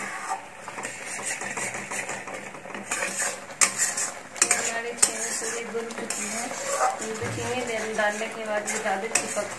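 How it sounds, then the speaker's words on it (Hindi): A spoon scrapes and stirs sugared milk cake mixture as it sticks to the kadhai, producing busy metallic scraping and clanking against the pan, close and continuous with uneven knocks. "चीनी डालने के बाद ये ज़्यादा चिपकती है कढ़ाई में तो आप इसे हटाते हुए चलाएं"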